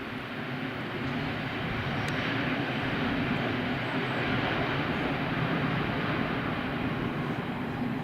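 A Boeing 757 airliner rolling out after landing at Funchal airport in Madeira, a broad steady engine roar heard from a distance, continuous without pause.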